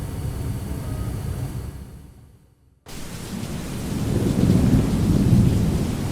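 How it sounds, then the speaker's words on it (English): A thunderstorm over a town: rain and low rumbling thunder, then a brief near-silent gap before a heavy rain wash returns and swells with deep rolling thunder, loud and close. "a thunderstorm rolled over town"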